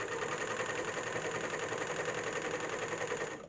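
A serger sews elastic onto a waistband with a steady, close mechanical whir that runs unbroken for several seconds before fading slightly at the end, with no voices.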